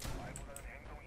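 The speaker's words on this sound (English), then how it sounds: "I'm being shot at." Gunfire in a tactical hostage-extraction video game, dense and continuous at close range, with a voice speaking over the shots.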